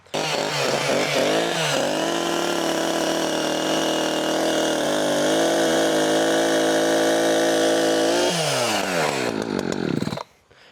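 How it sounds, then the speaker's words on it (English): A chainsaw sputters as it starts, revs up to a loud sustained whine for several seconds, then winds down and cuts off. "So I'm going to start up this chainsaw"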